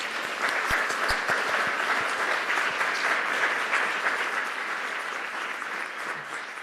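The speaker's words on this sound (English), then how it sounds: "Another round of applause for Dr." Steady applause from a symposium audience at Hofstra University, a dense even patter of many hands holding at a constant level throughout, with a few sharper individual claps standing out near the start.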